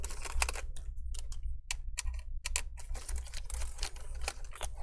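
Screws are backed out of the battery on an HP 15 laptop, giving a steady run of small, close, dry clicks and ticks at an uneven, quick pace.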